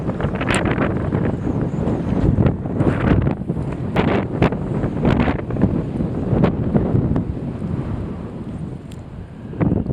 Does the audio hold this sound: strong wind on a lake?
yes